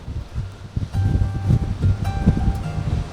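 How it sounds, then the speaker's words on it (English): Strong gusting wind on a coastal path buffets the microphone with rumbling, uneven surges that rise and fall loudly throughout. "the wind has definitely picked up."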